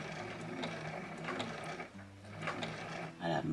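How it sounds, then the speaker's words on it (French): A sewing machine runs steadily while stitching a trouser seam along the front and back panels, a continuous close whirring hum with slight speed changes and a brief pause near the middle. "Et on va coudre, donc on ferme le devant et le"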